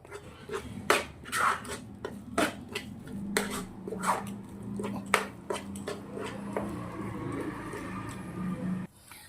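Gujarati coconut topra pak mixture is stirred in a kadai on the gas, giving a series of sharp scraping and clinking strokes in an irregular rhythm, close and moderately loud, with no talking.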